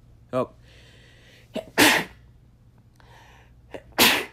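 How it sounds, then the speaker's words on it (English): Two loud, close sneezes, each preceded by a sharp inhale, separated by a couple of seconds of quiet room hum. "I had to sneeze a couple times"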